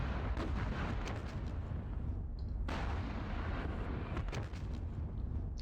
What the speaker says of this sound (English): let's take these recon tanks and fire here